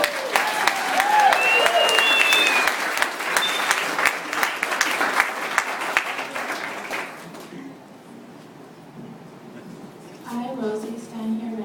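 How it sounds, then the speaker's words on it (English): Wedding guests at a vow ceremony break into loud, sustained applause for about seven seconds before the clapping fades, and a voice speaks softly afterward. "Round of applause."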